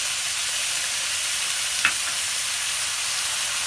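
Frozen mixed peppers fry in a pan for egg fried rice with a steady, bright sizzle and one brief crackle partway through, heard close up and alone.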